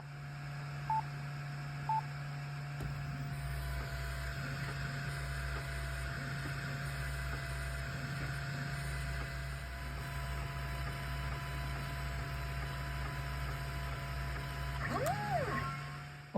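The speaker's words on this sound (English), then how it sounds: "And now I'm going to run it through my laser engraver." A laser engraver works on a wooden lathe sleeve, giving a steady electronic hum with a constant tone and a low pulsing machine drone, plus a few brief beeps at the start and a short warbling tone near the end.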